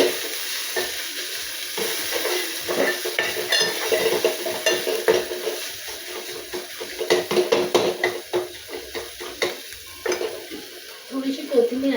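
Coriander powder being stirred into dal in a pan, with soft scraping and stirring strokes over a low simmering sizzle, steady and close, with occasional light knocks of the spoon.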